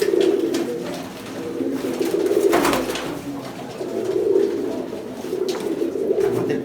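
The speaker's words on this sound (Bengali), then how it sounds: "তো আরও কিছু কবুতর আছে, সেগুলো দেখুন।" Pigeons cooing on a pigeon farm, repeated low throaty coos in overlapping waves, close and steady, with no voices.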